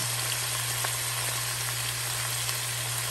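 Steady crackling sizzle of rooster meat frying in a hot pan on a wood stove, continuous and close, with a low constant hum underneath.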